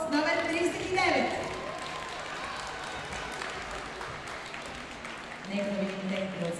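Audience applause for a competing dance couple at a dance competition, clapping continuous across the whole stretch while an announcer talks over it at the start and end.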